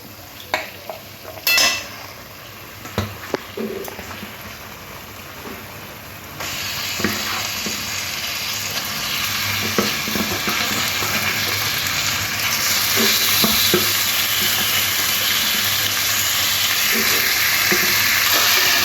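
Marinated chicken fries with spice masala for Bengali kosha murgi: scraping stirs and clinks, then a sizzle that grows louder and steadier, close-up with no talking.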